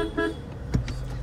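A short car horn toot sounds once as the start signal for a Scorpio versus XUV300 drag race, a brief blast over low engine idle, with faint voices before it.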